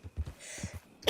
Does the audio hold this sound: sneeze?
yes